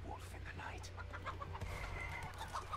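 Chickens cluck in the stealth video game Shadow Tactics: Blades of the Shogun, with scattered short clucks over a busy background of ambient game noise and faint talk.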